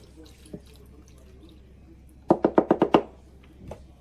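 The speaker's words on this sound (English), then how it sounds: "I'm going to add half chicken stock as well as half water to the greens." Chicken stock and water going into a pot of greens, heard as a quick run of six close, distinct splashing pours in a quiet kitchen, with a few softer drips before and after.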